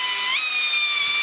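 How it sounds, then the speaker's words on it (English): A close, loud hand drill whine drilling a hole in an aircraft nose rib drilling fixture, a steady high pitch that jumps up early as the motor speeds up, then holds constant. "Then I just take my drill, hold it with my finger, stick the old drill in there"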